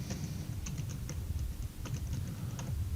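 Keys clatter on a computer keyboard in quick, irregular bursts of close clicks, with short pauses between runs of typing and no voices.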